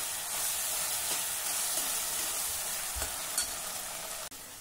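Pasta sauce and tomato sauce are stirred together in a pan, giving a continuous soft sizzle and hiss with faint scraping and a small clack near the end, with no talking.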